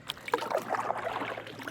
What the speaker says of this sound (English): So, I guess I better paddle harder.